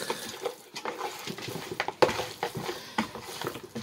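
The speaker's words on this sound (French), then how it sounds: "Et bien mélanger pour que les ingrédients là pénètrent bien dans la chair." Marinated pork being mixed with its ingredients by hand, producing wet squelching and slapping pats in an irregular rhythm, close and moderately loud with no talk.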